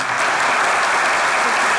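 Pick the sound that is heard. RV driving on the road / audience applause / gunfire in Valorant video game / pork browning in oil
audience applause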